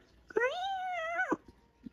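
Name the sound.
cat yowling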